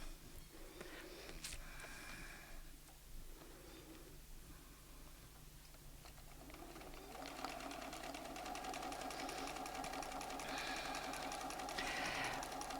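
A Bernina sewing machine stitches during ruler-guided quilting, a quiet rapid mechanical whir that starts and stops in short bursts and then runs steadily for the last few seconds.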